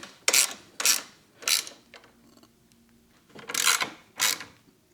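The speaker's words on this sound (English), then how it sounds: "I still need to tighten up the 17 on the other side and tighten up that 14 on the bottom." A wrench ratchets in short bursts while tightening bolts on a crash cage for a Kawasaki Ninja ZX-4R. There are five loud, close clicking runs separated by pauses.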